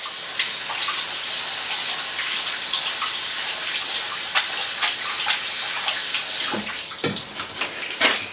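Cold tap water runs steadily in a full, hissing stream for several seconds, splashing a little more unevenly near the end.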